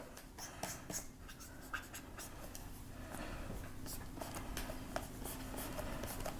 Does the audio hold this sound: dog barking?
no